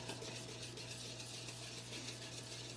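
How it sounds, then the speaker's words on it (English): Whisk stirring a thick honey pancake batter of egg and flour in a bowl, a faint, steady scraping and swishing with a low hum beneath, no talking. "Whisking this up."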